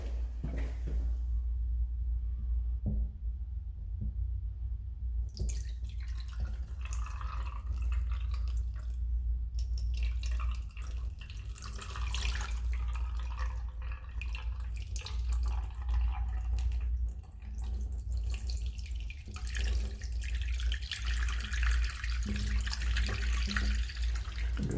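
Water slowly poured into a waterless urinal that is not draining, splashing and dripping steadily and close by for the whole stretch, with no talk.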